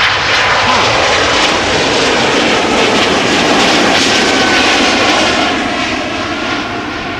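An Aer Lingus jet airliner at Amsterdam Schiphol gives off a loud, near, continuous engine roar that stays level, then tapers off a little at the end.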